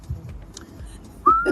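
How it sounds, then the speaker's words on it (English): A person whistles a short, clear, rising note near the end, faint background noise before it. "Are you whistling again?"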